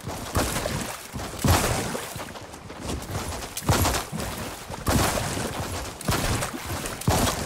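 Hand cannon fired in Fortnite: heavy, booming shots come one at a time at irregular intervals of about a second, each a loud blast with a rumbling tail and no talking over them.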